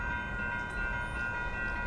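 An Amtrak Capital Corridor train runs southbound past the Fruitvale Ave crossing, sounding a P5 horn as a steady, loud multi-tone chord over constant rail rumble.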